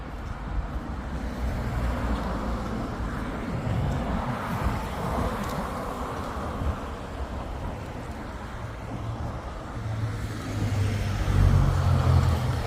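Steady stream of cars and trucks rolling along a busy street in Borisov, Belarus, a continuous broad traffic roar with a heavier vehicle swelling louder near the end, no voices.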